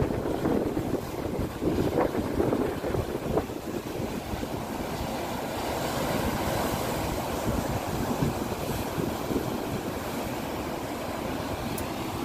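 Rough morning sea at Cap de l'Eau (Ras el Ma), Morocco: a loud, unbroken roar of crashing waves and surf mixed with strong gusting wind buffeting the microphone, no voices.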